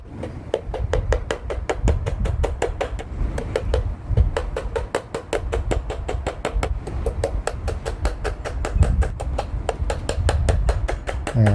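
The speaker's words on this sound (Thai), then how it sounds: "ถ้าปูตอกตอนนี้ก็จะตอกง่ายนะครับ ไม้ก็ไม่แตกด้วย" Steady, rhythmic hammering of nails into a handmade wooden leg-stretching stand, close and loud, with sharp evenly spaced strikes continuing for about twelve seconds and no talking.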